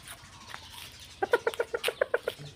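Native chickens clucking nearby, a quick run of sharp, bright clucks bunched together after a quieter start, with no voices.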